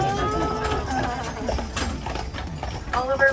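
Carriage horses' hooves clip-clopping on pavement on Mackinac Island, a loud, close, steady rhythm of hoof strikes with a voice talking underneath.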